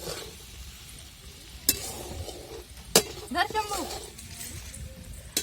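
Flattened rice for onion poha is stirred and sautéed in a pan, with scraping and a few sharp utensil clinks against the metal over a low sizzle, while someone talks throughout.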